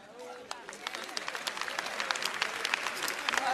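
An audience claps steadily, a dense patter of applause that grows a little fuller, with faint crowd murmur beneath.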